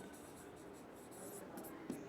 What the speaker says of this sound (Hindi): चलिए मैं एक सेंटेंस लिखता हूँ